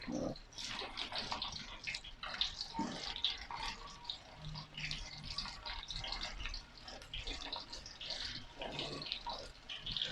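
Chicken pieces coated in egg and cornflour fry in hot oil, giving a steady, busy sizzle with crackling and popping that continues throughout at close range.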